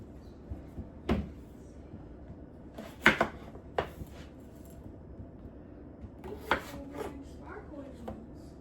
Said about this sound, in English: that knife cuts a tater good.